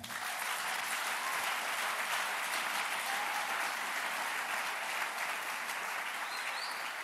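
A church congregation applauds during a worship service, steady dense clapping filling the room from start to finish without a break.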